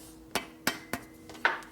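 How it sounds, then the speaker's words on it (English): A ball peen hammer beats on the pipe of a 1957 Harley panhead drag bike, giving five sharp, ringing metallic strikes at uneven intervals, moderately quiet and close, with no talk. "Ball peen hammer, because it gets used a lot."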